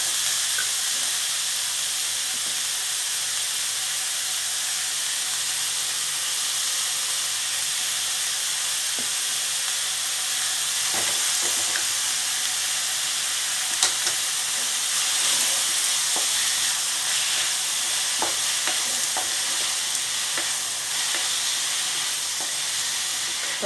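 Capsicum and onion sautéing lightly in a pan for kara kuzhi paniyaram, a steady hissing sizzle that runs throughout with a few faint clicks and scrapes, no voices.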